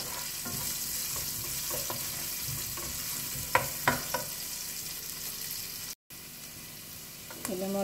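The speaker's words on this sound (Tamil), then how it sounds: "இந்த மாதிரி வெங்காயம் வதங்கட்டும்." Finely chopped onions sautéing in oil in a pan, a steady moderate sizzle with occasional clicks and scrapes of stirring, close and even, with no speech.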